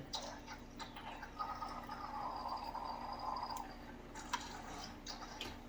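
A small 3 to 8 watt aquarium wave maker mounted near the water surface gurgles and bubbles steadily, with faint drips and ticks over a low hum.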